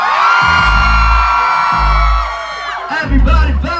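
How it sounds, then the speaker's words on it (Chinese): A crowd at a university Christmas gala concert in Taitung screams and cheers loudly and continuously, with heavy bass thumps from the stage sound system under the roar. The noise dips briefly near the end and then surges again. "台东再给我最大一次尖叫声好吗？"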